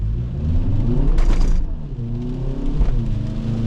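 A Hyundai Veloster Turbo with a manual gearbox pulls away hard in sport mode on a wet road, its engine rumbling and revving up in surges with a brief break partway through, loud and close with no talking.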